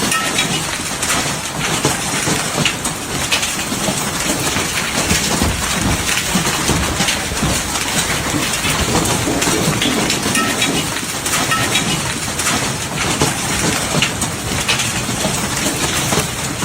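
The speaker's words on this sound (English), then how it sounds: "the pounding hail made the city sound like a war zone" Hail pounds down hard and without letup across Beijing during a giant hailstorm, a loud, dense, constant roar of impacts with no voices.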